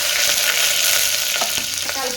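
A large onion sizzling loudly in hot oil with whole garam masala spices, including star anise, bay leaf and green chillies, while being stirred for a drumstick biryani; the sound is a dense, continuous hiss with a few scraping stirs and no voices.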